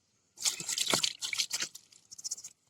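Water pours and splashes over clams, the kakka being rinsed for a fry, in a short run of close, wet patter that thins into intermittent trickles near the end.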